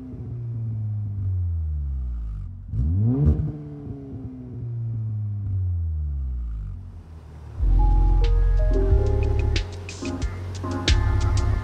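A tuned 560bhp 2.0T AWD Skoda Superb accelerates hard on the road in repeated surges, each rev climbing and falling through the gears, with a sharp burst of exhaust crackle and louder gear pulls near the end.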